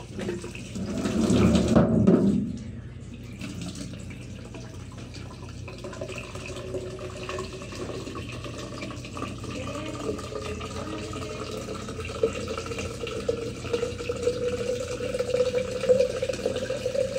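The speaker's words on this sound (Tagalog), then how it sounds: "Yung gripo kasi nila, kailangan pag lock mo, hilain mo siya ng medyo paangat para kunti lang yung mag-awas na tubig" A sink faucet gushes water in a short loud burst, then a softer steady trickle runs on at close range, alone without talk.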